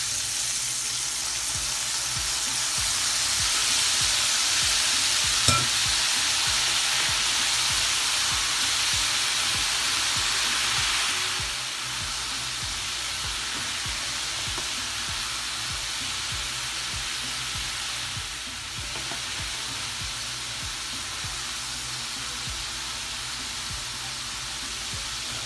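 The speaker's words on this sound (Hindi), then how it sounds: "फ्राई करेंगे दोबारा।" Chicken for a desi-style chicken teriyaki fries in a pan with a steady, loud broadband sizzle and hiss, occasional stirring scrapes and clanks, and a slight drop in intensity partway through, with no talking.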